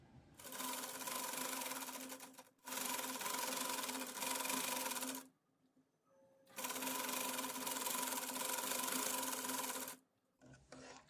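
A domestic sewing machine sews lining fabric onto the sleeve of a girl's circle frock in three long, steady runs separated by short pauses, with a brief faint burst at the end.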